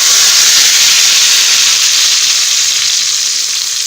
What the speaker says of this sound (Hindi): अब ये लगेगा तड़का इस पे।